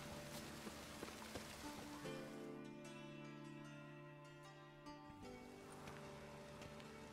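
Rain patters steadily over the streets of Novigrad in The Witcher game, a soft, constant wash heard faintly under sustained ambient music tones and a few scattered clicks.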